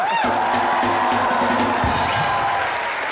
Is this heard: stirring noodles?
no